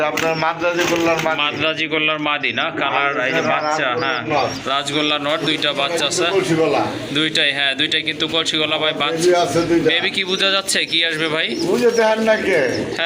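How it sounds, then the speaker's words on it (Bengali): Pigeons, including big Rajgolla pigeons, coo continuously nearby, their low throaty calls overlapping while people talk close by. "আরেক জোড়া কবুতর আছে এখানে দেখেন বিগ সাইজের কবুতর রাজগোল্লা কবুতর"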